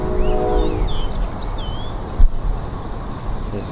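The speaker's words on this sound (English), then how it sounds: "Hear the train coming by." A train rumbles past at a distance, a broad steady roar with a low horn-like tone at the start, heard outdoors from a high viewpoint near mounds with birds chirping faintly above.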